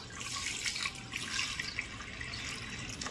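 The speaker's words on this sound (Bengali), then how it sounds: "এবার প্রেসার কুকারটার মধ্যে আমি ডিমগুলো দিয়ে নেব। এর মধ্যে একটু নুন দিয়ে দিলাম, আর দেব হচ্ছে জল।" Water pours steadily from a tap into a pressure cooker holding eggs and a little salt, a continuous close splashing stream with small fluctuations and no talking.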